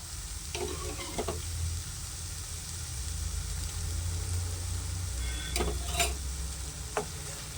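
A spoon stirs beetroot halwa with milk cream in a pan, giving a steady soft sizzle and hiss with a few light scrapes and knocks, close and alone.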